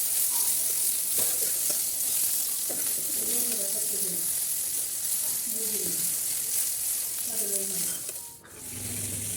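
Chepa shutki puli fries in a covered pan, giving a steady hiss and sizzle throughout, with faint chirping bird calls in the background and a brief clatter near the end.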